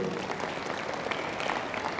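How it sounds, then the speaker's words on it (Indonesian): Applause from a church congregation for a boy asked to stand up front, a dense steady clapping that fills the whole stretch at moderate loudness. "Tepuk tangan dulu untuk Gio"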